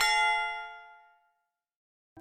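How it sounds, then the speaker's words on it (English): A single bright subscribe-bell notification ding rings out and fades slowly over about a second, followed by silence and a brief soft sound at the very end. "press the bell icon after subscribing"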